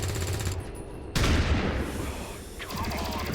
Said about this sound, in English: none of these shots are connecting except for one shot from the Sidewinder